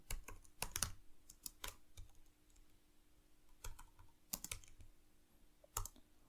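Typing on a computer keyboard while writing Python code, heard as scattered bursts of crisp, close key clicks separated by brief quiet gaps.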